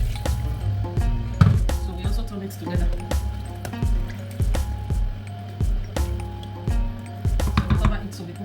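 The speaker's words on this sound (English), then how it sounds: "So we are adding in the water now." Water pours into a pot of egusi pepper soup on the stove, a wet splashing fill with a few clinks of the pot, heard close up beneath someone talking.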